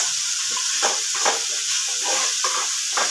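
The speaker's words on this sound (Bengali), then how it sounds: "দেব এবার ভালো করে টমেটো কেচাপটা মিশিয়ে নিতে হবে" Tomato ketchup being stirred into an egg snack in a hot pan, a steady sizzling hiss with soft scraping strokes of the spoon recurring every half second or so, close and alone without talk.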